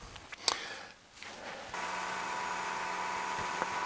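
A wood lathe spins a bowl at about 970 RPM while a 5/8 inch bowl gouge works it: a few scraping touches, a brief lull, then a sustained steady machine whine with cutting noise running to the end.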